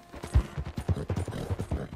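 Horse hooves clip-clopping in a steady rhythm while riding in Red Dead Redemption 2, close and fairly loud, with about a dozen thuds in quick succession.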